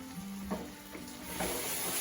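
Onions and garlic frying in a pan for French onion soup, a steady close sizzle with a few scraping stirs of the spoon breaking through at intervals.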